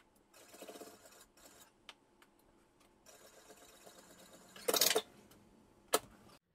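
Domestic sewing machine stitching fabric in short runs, with brief pauses, light mechanical ticks and two louder rattling bursts near the end; no voices.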